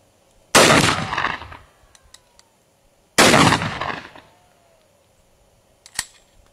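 Shotgun loaded with buckshot fired at 50 and 100 yard targets outdoors: two loud, sharp blasts about three seconds apart, each trailing off in a long echoing decay, then a smaller sharp click near the end.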